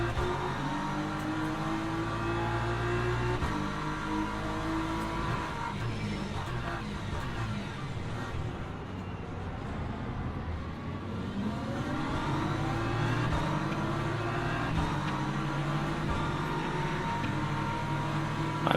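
Race cars, including LMP3 prototypes, roaring in the Le Mans Ultimate sim racing game, a continuous loud engine drone with rising and falling revs through gear changes, steady and close for the whole stretch, no talk.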